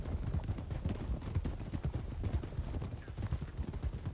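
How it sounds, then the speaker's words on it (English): Rapid, continuous clip-clop of hooves from several horses trotting together in a video game, dense and rhythmic, at a moderate distance with no talking. "Not used to all the sound of the horses."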